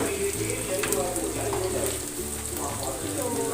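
Spices for a tadka fry in a pan, giving an even, continuous hiss of sizzling oil over a low background hum, with no clear breaks.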